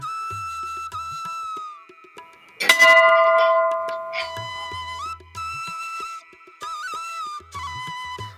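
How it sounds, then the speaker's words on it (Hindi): Metal temple bells struck at Bhootnath Mandir in Rishikesh, one sharp loud clang near the middle ringing out with a long bright decay, amid other thin ringing tones and soft low rumbles. "आज ऐसे घंटियां बजाकर बचपन याद आ गया।"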